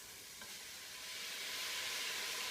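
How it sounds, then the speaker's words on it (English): Ground beef sizzling in a hot pan, a steady hissing crackle that swells slightly louder over a couple of seconds, close by with no talking. "That is the sizzle of success right there."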